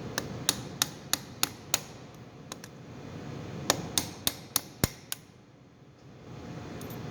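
A hammer taps a drill bit to drive the shield pin out of a vintage Wenger or Victorinox fiber-scaled four-layer pocket knife, about a dozen sharp, close metallic strikes in two quick bursts with a pause between.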